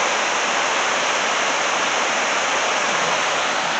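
Water rushing steadily through a small hydro generator beside a river, a loud, continuous broadband wash with no breaks and no voices.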